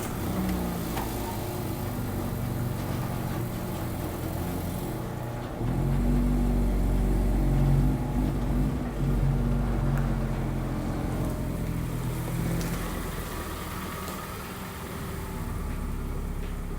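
A light Mazda Miata pulls into a garage onto new plastic interlocking floor tiles, its engine idling low and then swelling to a louder close rumble as it creeps forward, settling back to a quieter idle.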